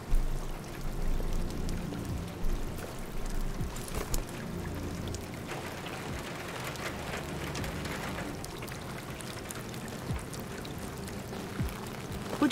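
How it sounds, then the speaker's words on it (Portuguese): Steady, broadband rain patter in the video game Detroit: Become Human pours continuously, dense and fairly close, with a few brighter droplet hits, no voices over it. "Tá chovendo."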